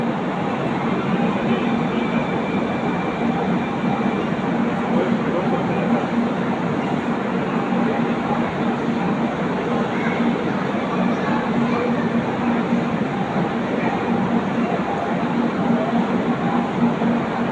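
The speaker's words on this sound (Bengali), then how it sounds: "বিবেক এক্সপ্রেস চলে যাচ্ছে" The Vivek Express train pulls away in a steady, continuous rumble of rolling wagons, loud and close throughout with no distinct breaks.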